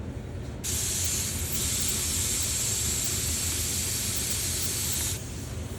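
Light coats of lacquer spray onto a guitar neck from a 1969 Martin D-28 during restoration, a steady close hiss lasting about four and a half seconds over a low background rumble.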